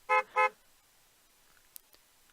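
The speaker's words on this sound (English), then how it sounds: "A car honks its horn." Two short, bright car horn honks in a video game scene, sounding in quick succession and fairly close, followed by near silence with a couple of faint clicks.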